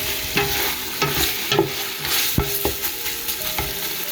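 Prawns sautéed with onions and tomatoes for a Goan caldine, sizzling steadily in a pan while a spoon scrapes and stirs in several distinct clanks, with no talking.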